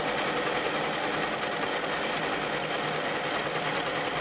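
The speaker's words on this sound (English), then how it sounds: "So I'm just going to sew over that same line before I move the ruler." Domestic sewing machine running steadily through a ruler-guided quilting stitch, a continuous close, loud mechanical whir with dense rapid needle chatter and no voices.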